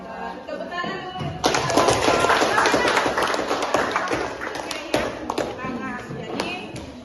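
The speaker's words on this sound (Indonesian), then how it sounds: "Tepuk tangan dulu." A classroom of students claps hands together in applause, a dense patter of many close claps building after a second and continuing for several seconds, with voices mixed in underneath.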